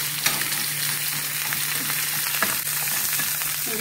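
Sliced onions and green chillies fry in a pan for a bitter gourd dish, giving a steady close crackling sizzle with a few faint stirring scrapes.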